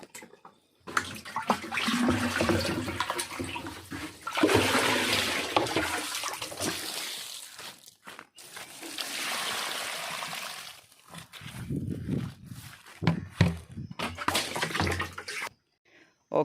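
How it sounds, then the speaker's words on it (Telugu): Water poured out of a drum onto freshly planted coconut saplings, a loud continuous splashing gush in long bursts that break off and resume several times before stopping, with no talk. "వాటర్ అనేది ఇక్కడ పోసేసి ఫైనల్లీ డ్రమ్ని అయితే ఖాళీ చేసేసాం"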